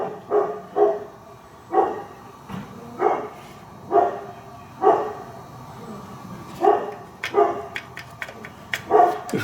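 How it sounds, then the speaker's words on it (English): A dog barks repeatedly in regular bursts of one or two woofs, moderately close and clear against a quiet background, with no talking. "Always got to check and see what the dog's talking about."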